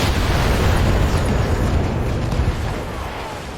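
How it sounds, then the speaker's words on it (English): A mech is destroyed by a shot in the BattleTech 3025 video game, letting out a loud, rumbling explosion that roars without a break and slowly tails off over a few seconds. "Mech destroyed."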